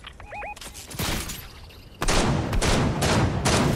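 Gunfire in a shooter video game: rapid bursts of shots crackle through the mix, a lighter burst first, then louder, denser volleys after a couple of seconds, with no talk over them.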